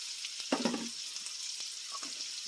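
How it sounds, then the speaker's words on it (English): Chopped onions and garlic hitting a hot frying pan, a quiet sharp sizzle burst followed by soft stirring scrapes and a low continuous frying hiss, recorded close in a home kitchen. "Now we add our onions"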